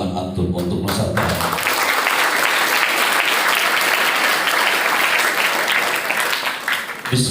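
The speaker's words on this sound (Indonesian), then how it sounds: "berikan tepuk tangan antum untuk Nusantara." A crowd of students claps loudly and continuously at a motivational seminar at a pesantren in Banten. Brief talk opens the clip before dense applause takes over for the remaining seconds.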